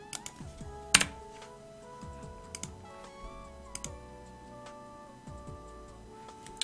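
Quick bursts of keystrokes on a Razer BlackWidow Tournament Edition mechanical keyboard, sharp clicky taps in uneven clusters over a faint tonal background of game or music sounds.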